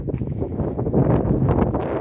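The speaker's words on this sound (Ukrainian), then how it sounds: "Все, виключаюся, бо дуже вітер дує." Low, rumbling wind buffeting a microphone, a continuous muffled roar with gusty surges and no clear talk.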